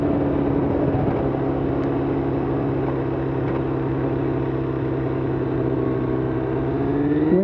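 A Kawasaki ZXR250 (ZX-2R) motorcycle cruising in sixth gear at about 10,000 RPM on roads around Hobart, its engine a loud, steady high-revving buzzing whine that holds an even pitch throughout.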